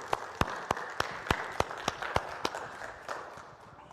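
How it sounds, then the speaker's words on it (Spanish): Church congregation applauding children after a Spanish-language service, heard as about a dozen sharp, separate hand claps spaced through the room, fairly faint and fading toward the end. "Démosles un fuerte aplauso a nuestros niños del día de hoy."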